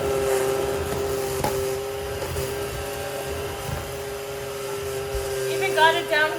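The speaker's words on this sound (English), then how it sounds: "Now we want to go back to the regular vacuum mode." A smart robot vacuum cleaner runs steadily with a constant motor whine and hum, working across hardwood, tile and carpet floors, with brief bumps and some rattling near the end.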